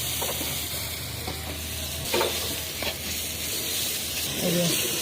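Ground spices and chicken frying in a pan for a dark Bengali chicken kala bhuna, with a steady broadband sizzle and a few scraping stirs of a spoon. Heard close and fairly quiet, with no talk over it.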